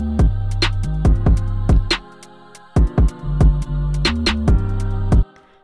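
A complete UK drill beat built in the Soundtrap online studio plays alone: heavy sliding 808 bass notes under sharp snare and hi-hat hits, with a short drop in the middle before the full pattern returns.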